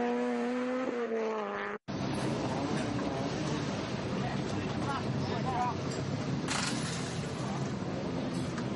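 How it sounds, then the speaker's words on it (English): A rally car drives a gravel stage in Ulster during a British Rally Championship round, bouncing over bumps. Its engine roars continuously with brief gaps and surges, under a commentator's voice. "That car's still a bit bouncy over these bumps,"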